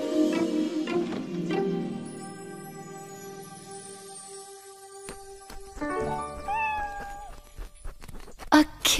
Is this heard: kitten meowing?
yes